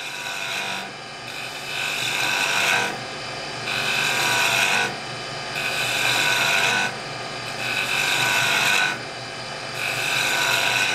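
A skew chisel cuts wood on a lathe, giving a steady rasping, shaving sound that swells and eases in regular passes about every two seconds, close and moderately loud, with no talking.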